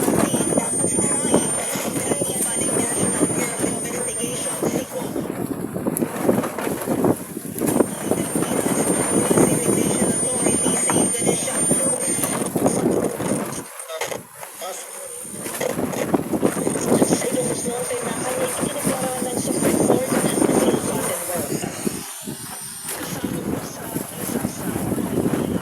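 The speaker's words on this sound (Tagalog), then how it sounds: "Lakas pa ng hangin." Strong wind buffets the microphone out at sea on a fishing trip, a continuous loud roar with gusts and brief lulls, with faint voices underneath.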